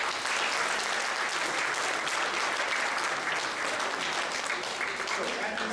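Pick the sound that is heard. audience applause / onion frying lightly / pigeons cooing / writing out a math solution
audience applause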